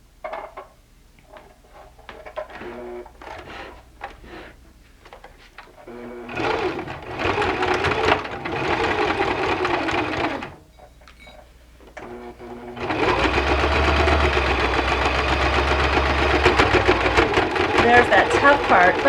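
A domestic sewing machine stitches through the layers of a zippered box pouch, running in bursts with short pauses, then a long steady loud run to the end; the motor labours briefly at a thick seam.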